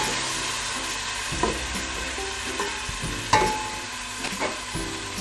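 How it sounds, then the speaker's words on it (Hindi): About a cup of ginger garlic paste frying in a pot for a beef bong curry, a continuous sizzle with several clattering stirs and one sharper metallic knock midway, no voices. "अब मैं इसमें ये डालूँगा 1 कप के करीब लहसुन अदरक की पेस्ट।"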